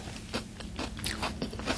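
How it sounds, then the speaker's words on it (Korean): Close crunchy chewing of pickled yellow radish, cucumber and lotus root in a rice ball, a rapid series of crisp bites and crackles close to the mouth, with no talking. "연근이 씹혔어요"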